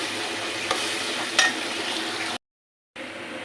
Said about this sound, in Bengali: মাছের জন্য পেঁয়াজ মরিচ ভেজে নিচ্ছি